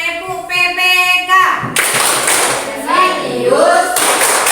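A class of children claps together in a rhythmic PPK clapping pattern, a series of quick claps mixed with voices chanting along in a classroom.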